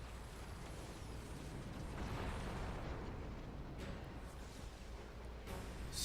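An explosion in the video game Xenoblade Chronicles 2 lands as a dense, roaring rumble that swells at about two seconds and stays loud and broad throughout, with a sharper burst near the end and no talk.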